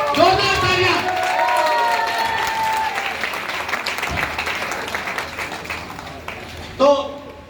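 Applause from the audience at a Tiens India business event in Delhi, steady clapping that fades slightly over several seconds while someone speaks over it, ending with a brief louder burst.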